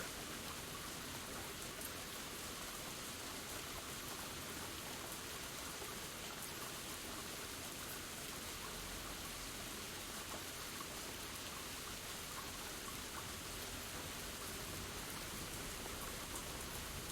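Steady rain falling in the farming video game Gleaner Heights, a constant soft hiss of drops spread evenly across the whole stretch, faint and unbroken with no other sounds.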